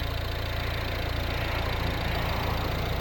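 The 1.6 diesel engine of a 2013 Volvo V60 D2 idles steadily up close, a constant low rumble with a faint knocking texture and no voices.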